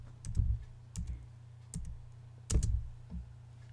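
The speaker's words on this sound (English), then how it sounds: "Why am I typing her name?" Someone types a few quick bursts on a computer keyboard, with soft clustered key clicks spaced under a second apart over a low steady hum.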